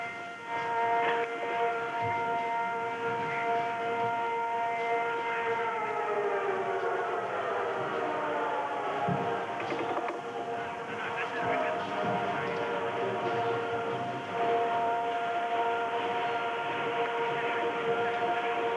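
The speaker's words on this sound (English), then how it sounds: "Air raid sirens in Riyadh, the capital of Saudi Arabia." Wailing air raid sirens rise and fall continuously over Riyadh, Saudi Arabia, at the start of the 1991 Gulf War, several tones overlapping and echoing at a distance, with steady background noise throughout.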